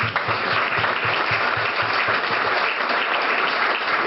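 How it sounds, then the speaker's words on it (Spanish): Audience applause at a tango performance, steady loud clapping from a full room that holds evenly throughout without talk. "hay que renovar el aplauso"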